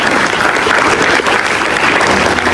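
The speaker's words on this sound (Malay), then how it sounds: "Berikan tepukan gemuruh kepada anda semua." Loud, dense applause fills a school hall at SMK Bukit Besar during a retirement ceremony, with many hands clapping continuously and evenly for the whole stretch.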